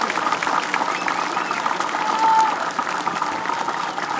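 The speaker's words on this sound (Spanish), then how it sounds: "¡Vamos, un aplauso hacia el licenciado!" A crowd at a political rally in Teapa, Tabasco claps steadily for López Obrador, with a soft background hum and a brief tone rising partway through.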